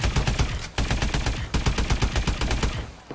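Rapid automatic gunfire in a video game, loud and continuous with dense repeated shots and only brief breaks.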